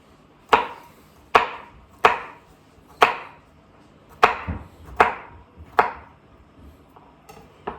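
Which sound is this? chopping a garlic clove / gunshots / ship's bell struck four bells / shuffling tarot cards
chopping a garlic clove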